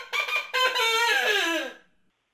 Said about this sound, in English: You would have barnyard animals like a rooster.